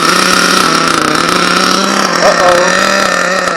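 A small HPI nitro 4.1 RC engine runs steadily after starting, a loud, continuous high-pitched buzz with a slight shift in pitch partway through, close by.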